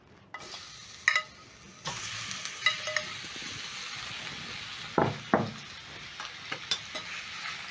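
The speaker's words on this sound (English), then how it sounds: "Add cooking oil to the pan, just enough to fry the fish." Fish fries in cooking oil in a pan on a stovetop with a steady, fairly close sizzle. Scattered clinks and louder crackling bursts mark where the fish is moved in the pan.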